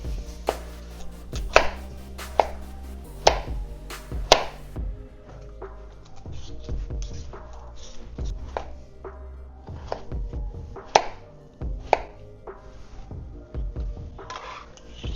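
Purple carrots chopped with a knife on a cutting board, sharp close knocks coming in quick bursts with short pauses between them, no voices.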